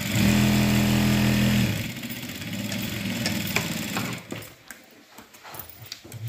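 A sewing machine runs a straight line of stitches on a blouse: a steady, loud mechanical hum for under two seconds, then quieter uneven whirring and a few scattered clicks as the fabric is handled.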